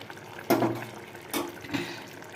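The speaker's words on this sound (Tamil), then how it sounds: "நான் புளி தண்ணி ஊற்றிட்டேன்" Tamarind water pours into a clay pot of kara kuzhambu curry in a few short splashing bursts, close and fairly loud, with quiet pauses between pours.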